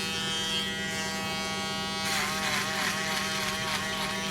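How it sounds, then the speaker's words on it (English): A handheld electric shaver buzzes steadily while cutting hair, a close, loud motor drone with strong harmonics whose tone roughens partway through as the blades meet hair. No one talks. "I'm going to use the shaver, and then I'm going to continue to talk to y'all."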